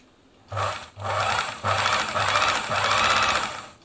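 Singer 760 sewing machine running in several short bursts separated by brief pauses, a close whirring hum with rapid mechanical chatter, each run starting and stopping abruptly.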